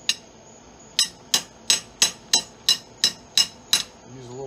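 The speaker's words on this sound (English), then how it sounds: "All right, get my hammer," A hammer taps on a Hyundai Accent cylinder head during removal, about ten sharp metallic strikes in a quick, fairly even rhythm, close and bright, with a brief low mechanical sound at the end.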